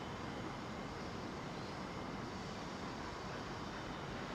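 American Airlines Boeing 787 Dreamliner lining up for departure at London Heathrow, a faint, steady, broadband engine rumble heard from a distance, unchanging over a few seconds with no talk.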